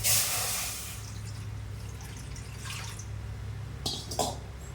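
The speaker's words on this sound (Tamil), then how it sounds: "இதில் தண்ணி கொஞ்சம் ஊற்றிடுறேன்." Water poured into a cooking pot of cut vegetables such as pumpkin, drumstick, raw banana, carrot, beans and potato, a soft splashing trickle with a brief louder gush at the start and a few drips near the end.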